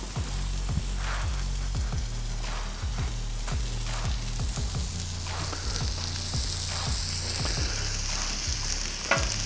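Smash burgers sizzle loudly and continuously on a Halo Elite4B griddle, a dense close frying hiss with a low steady hum beneath and occasional spatula scrapes and taps.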